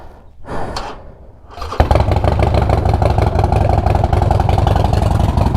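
A Harley-Davidson Sportster 1200C motorcycle is started nearby, with a brief attempt and pause before the engine catches loudly. It then settles into a rough, evenly pulsing V-twin idle that continues to the end.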